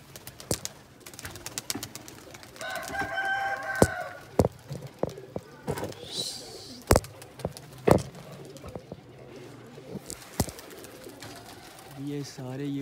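Pigeons coo nearby in a rooftop coop where baby pigeons are being let out. Soft, throaty coos come in a short run, mixed with wing flaps, clicks and other close handling noises.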